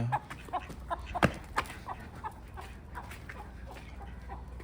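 Chickens, including a sick hen, clucking in a loose series of short, close calls over a faint outdoor background.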